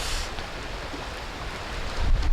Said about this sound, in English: But there's some wind coming across there.